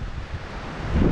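Strong wind buffets a microphone outdoors at a hillside bike jump spot, giving a steady, loud rushing roar that swells slightly toward the end, with no talking.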